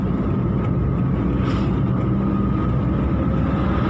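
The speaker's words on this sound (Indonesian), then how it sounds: "kalau mesin sudah meraung seperti ini 3000" A car engine in second gear drones at a steady, raised pitch around 3000 rpm, a constant loud hum with no pauses and no voices.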